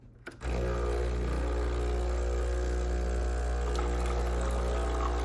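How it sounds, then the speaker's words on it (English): After a click, a steady stream of hot water pours from a Breville Barista Express espresso machine over a constant machine hum, continuous and close, with no talking. "The water will start pouring out."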